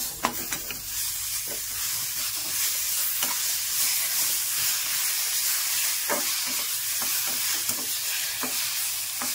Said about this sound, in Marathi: ते चांगल्या पद्धतीने हलवून घ्यायचं आहे दही टाकून।